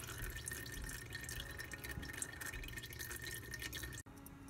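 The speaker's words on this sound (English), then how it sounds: "It's almost done, but you can see that it's still dripping quite a bit." Engine oil drains from an ATV/UTV during an oil change, a soft steady trickle with faint drips that continues for about four seconds and then cuts off abruptly.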